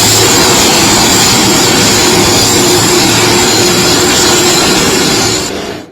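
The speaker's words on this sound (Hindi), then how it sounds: "ट्रंप का हेलीकॉप्टर लैंड हुआ है।" Trump's helicopter landing in South Korea, a loud, steady broadband engine and rotor roar close by that holds constant before fading quickly at the end.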